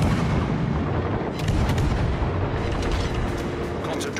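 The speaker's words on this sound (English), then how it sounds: "Concentrate fire on that enemy warship." Warship guns of the VII Friesland fire in a naval video game battle: heavy booming salvos and rumbling blasts fill the whole stretch, loud and continuous with no clear pauses.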